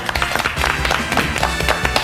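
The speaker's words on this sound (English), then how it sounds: "Give her a round of applause." A studio audience on Celebrity Big Brother UK applauds for Carol McGiffin in a loud, dense burst of clapping with music underneath, lasting about two seconds.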